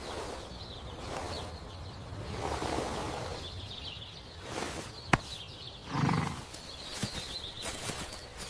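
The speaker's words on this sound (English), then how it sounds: "This is a horse." A horse on a farm neighs and snorts over noisy outdoor background, with a few sharp clicks and a louder whinny burst partway through.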